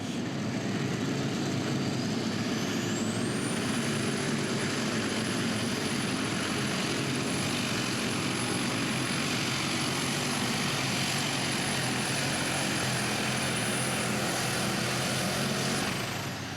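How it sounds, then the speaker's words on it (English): A John Deere light weight super stock pulling tractor engine drones loudly and steadily throughout with a rough, uneven flutter, and a high whine rises early and holds, at a tractor pull in Franklin, Kentucky. "It was not a nice, smooth sound out of that engine."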